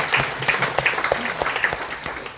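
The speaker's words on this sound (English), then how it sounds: "Clap that one more time." A crowd claps steadily for military families at an appreciation speech, a dense patter of many hands at moderate distance with no voices over it.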